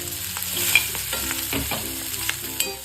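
Chopped chival greens frying over low heat in a pan, with a steady close sizzle and busy scraping and stirring strokes throughout.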